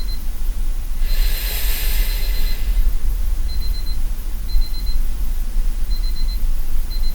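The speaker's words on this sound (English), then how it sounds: "hold on, I'm getting distracted with my alarm." An alarm rings with a loud burst of shrill ringing, then repeats as short intermittent beeps over steady background rumble.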